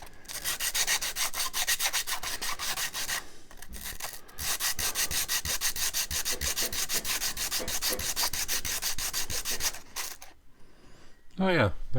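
Wood is sanded by hand in long, steady back-and-forth strokes to remove burn marks from a piece for a homemade ukulele, the rasping continuous and close with a few brief pauses, ending in a short louder scrape.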